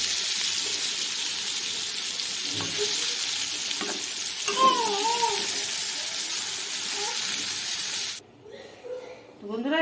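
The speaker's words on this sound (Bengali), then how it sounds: "এই যে মাছ ভাজা কড়াইয়ের মধ্যে তেল দিয়ে দিলাম, আর একটু দিয়ে মাছগুলো সব ভেজে নেব" Fish rubbed with turmeric and salt frying in oil in a kadai gives a loud, steady sizzle and hiss with bursts of spitting. A voice briefly rises over it before the frying sound suddenly drops away near the end.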